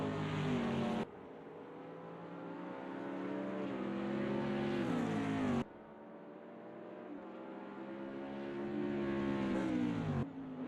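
Race car lapping Bathurst in the wet during a 12-hour endurance race: a loud engine climbs steadily in pitch through each gear, with sharp drops at two upshifts, heard close and without voices.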